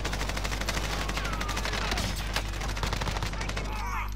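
Rapid video game gunfire rattles continuously in dense automatic bursts, loud and close, with brief voices mixed in.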